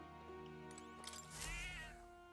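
A cat in the game Metaphor: ReFantazio meows while being petted, one drawn-out wavering meow over a soft tonal music bed, close and clear.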